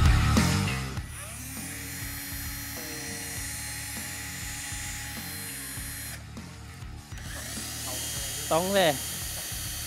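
A drill whines in short bursts while holes are bored into a PC case during a modding build, the buzzing tone rising and falling close by, with a voice speaking briefly over it.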